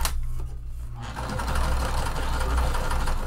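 A domestic sewing machine at regular stitch length sews vinyl onto fabric for a pool tote, a steady close motor whir with a rapid needle chatter following a brief start.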